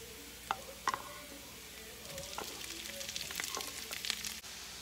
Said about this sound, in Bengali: পেঁয়াজ, রসুনটা আর মরিচের এখন ব্রাউন হয়ে আসছে, এটার মধ্যেই আমি ওই সিদ্ধ শাকটা দিয়ে দিব।